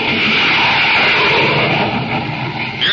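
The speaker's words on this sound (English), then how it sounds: "You're listening to the blazing roar of a jet" A jet plane roars in a radio sound effect, a loud, steady, broadband rush of engine noise that holds for about three seconds with no voices.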